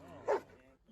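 A drug-sniffing police dog at a police station gives a single short bark, close and moderately loud, over a background murmur of crowd voices.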